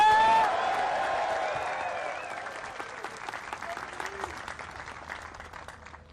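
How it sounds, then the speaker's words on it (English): A crowd at the disc golf pro world championships final round claps steadily. The applause is loudest at the start and slowly thins and fades over several seconds. "One more round of applause for our players, folks."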